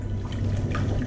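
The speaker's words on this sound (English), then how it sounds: "I'm adding more water to this one." Water pouring into a container while mixing vinegar and water to restore worn silver, a soft, steady trickle heard close and alone for about a second.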